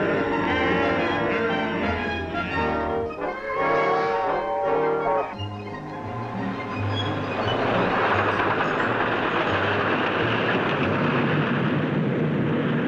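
A train rumbles along the rails through New Zealand ranges, wheels clattering loudly and continuously, with a metallic ringing early on fading into a broad steady roar.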